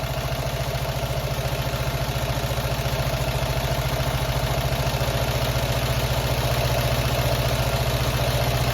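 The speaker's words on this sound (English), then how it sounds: "we're going to go in until we start to stall the engine, and then that's going to be our leanest point." Classic Fiat 500 engine idling steadily at close range while its carburetor mixture screw is adjusted, a continuous low rumble with fine rapid pulsing and no talk.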